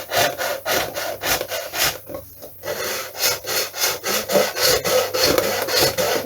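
A fine-toothed balsa wood saw cuts through plastic on a 1/6th scale Tiger Moth model build, with steady rhythmic back-and-forth rasping strokes close up, a brief pause midway, then continued sawing.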